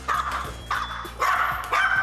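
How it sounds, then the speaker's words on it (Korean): A dog, a problem eater on a behaviour-training show, barks in repeated bursts of sharp, loud barks at close range, with short gaps between them and no talk over it. "오늘따라 유독 짖어대는데요."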